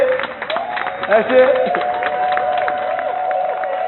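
An audience applauds steadily while a voice speaks over it, with a sustained tone running through the clapping.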